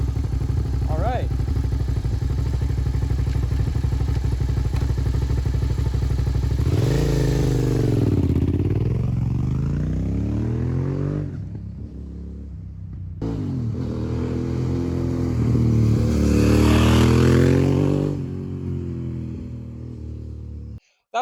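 A free motorcycle revived after sitting runs close by, its engine idling roughly then revving up and down in sweeping surges, briefly dropping off before revving again, loud and continuous.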